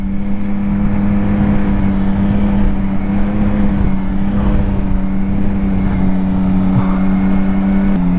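A Yamaha Tracer 9 GT+ motorcycle, 2023 model, runs steadily with a loud, continuous engine drone and faint shifts in pitch, alone with no talk.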